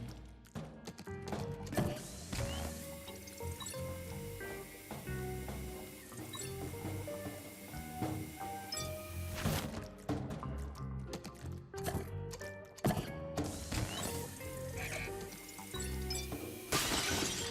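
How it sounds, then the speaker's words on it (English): Objects smash and shatter repeatedly in the video game Luigi's Mansion 3, with glassy clinks and breaking crashes over a dense game soundtrack, loud and continuous throughout. "you think the cop would be hearing me smashing and breaking things"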